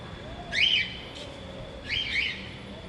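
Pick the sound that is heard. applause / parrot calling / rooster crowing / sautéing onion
parrot calling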